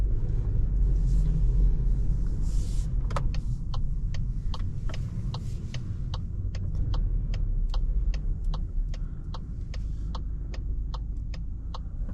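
A 2024 Volkswagen Golf 8 facelift eTSI mild hybrid pulling away inside a large garage, with a low steady engine rumble and a regular indicator ticking in the cabin, close and even, no talk.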